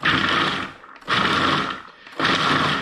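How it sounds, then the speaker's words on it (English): Food processor pulsing soaked chickpeas for falafel, three loud bursts of whirring and chopping separated by short pauses, with no voices. "now we're going to pulse in a food processor"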